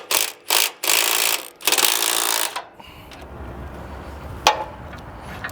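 Tension bolts on the X axis belt of an R300 or ProSlab harvester are loosened with a ratcheting wrench, giving several loud bursts of close ratchet clicking followed by quieter metallic handling and a single sharp clink.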